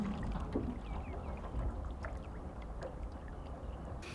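Oars dipping and splashing as a blind fisherman rows a small boat on the Little Zab river near Ranya, soft watery strokes over steady flowing-water and open-air ambience, moderately near with no talking.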